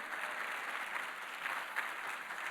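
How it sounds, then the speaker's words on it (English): Audience applause after a guest is welcomed at an Eisenhower Fellows event with Philadelphia's mayor; steady, fairly soft, distant clapping from a crowd fills the moment without voices. "Give him a round of applause, please."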